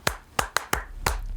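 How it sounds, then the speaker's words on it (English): A crowd claps in a room during a podcast recording, with six sharp, spaced hand claps in an uneven rhythm, close and fairly loud, with no talking. "Let's get a round of applause from everybody in the room."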